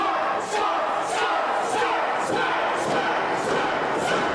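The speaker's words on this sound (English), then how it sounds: "We got a chant of scarf coming up from the crowd" A wrestling show crowd chants "scarf" in a steady, pulsing rhythm, a dense wall of many voices filling the hall, loud and continuous with no pause.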